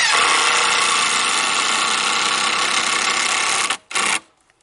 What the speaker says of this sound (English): So I'm just going to stick some screws through the top this time down into the 4x4.